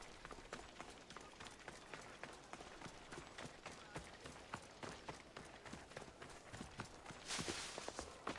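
Rapid, steady hoof clip-clop of a horse galloping through a city street in Assassin's Creed Odyssey, a continuous run of close, even hoof strikes with a brief burst of noisier wash near the end.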